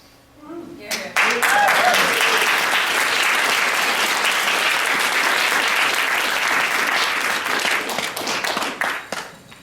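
Audience applause for a speaker at a talk, a dense round of clapping that starts abruptly, holds steady for several seconds and then thins out and fades near the end, with a voice briefly heard at the start.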